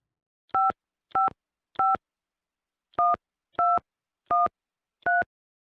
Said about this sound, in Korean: 제가 전화해 볼게요